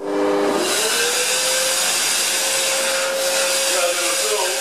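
A vacuum pulls suction through a Festool Rotex RO150 sander while cleaning up plasterboard dust, a loud steady roaring hiss with a rising whine that settles into a sustained tone, close and continuous.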